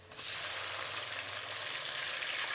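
Tomatoes sizzling hard in a hot pan over browned onions, a steady, loud frying hiss that holds evenly throughout with no voices.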